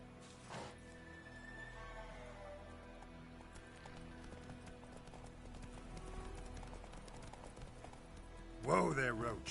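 Hooves of Roach, Geralt's horse in The Witcher 3, clip-clopping in a steady galloping rhythm close by under a continuous game soundtrack, with a snort or whinny-like burst near the end.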